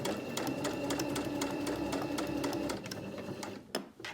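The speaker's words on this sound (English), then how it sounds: "The presser foot isn't going to push it backwards." A sewing machine stitches a skirt waistband seam, running steadily for almost three seconds with a rhythmic mechanical whir and clicking, then slowing and stopping with a few faint clicks near the end.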